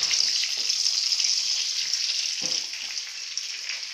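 Chicken strips in mustard and honey sizzle steadily in a frying pan, a continuous hiss with a few soft clicks and bumps, close and fairly loud, with no talking.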